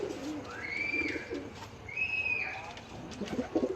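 Breeder pigeons coo nearby, with two drawn-out rising and falling calls, amid soft rustling and faint background talk.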